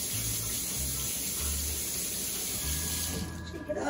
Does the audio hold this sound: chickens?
no